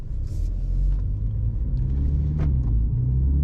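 A 2021 MINI Hatch JCW's 2.0-litre four-cylinder engine idles steadily with a deep, throaty low rumble, close and continuous, with a few faint higher clicks over the hum.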